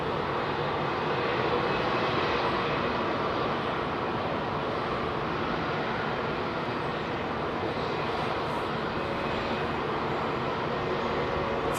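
Steady, loud broadband roar of jet aircraft engines at London Heathrow Airport during a go-around, continuous and unbroken throughout with no voices.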